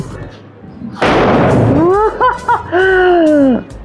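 A Diwali firecracker, a Lakshmi or kuruvi type, bursts with a sharp crackling blast, followed by a person speaking in drawn-out, wavering vocal sounds.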